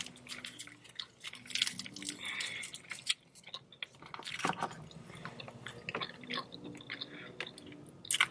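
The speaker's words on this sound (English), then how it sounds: "Let's go chew a little piece." Candy-flavored chewing gum is chewed right at a close microphone in a quiet room. The wet, squishy smacks and small clicks come in an irregular, continuous rhythm, and no speech is heard.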